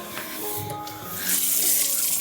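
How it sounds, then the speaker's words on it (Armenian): Water runs steadily from a tap into a sink, a continuous close splashing rush that grows slightly louder and brighter midway. "պետքա շատ պահի սառը ջրի տակ"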